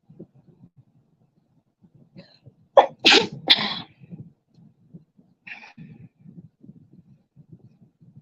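One loud sneeze in two quick bursts near the start, with faint low rumbling and rustling before and after, then a short breathy sound.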